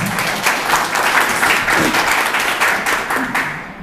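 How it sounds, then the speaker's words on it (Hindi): An audience at an award ceremony honouring senior wrestlers claps loudly and densely, a sustained wash of applause that stays near and full, then fades slightly at the very end. "मुझे लगा कि आप लोग इस बात पर तालियां बजाएंगे"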